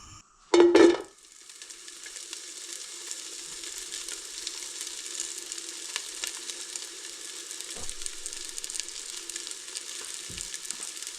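Chorizo sizzling in olive oil in a pan, a steady close frying hiss that runs throughout after a brief loud clatter at the start.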